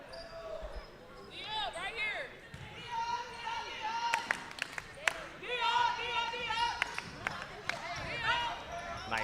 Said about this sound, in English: Nice move, nice pass, good bounce off the glass there.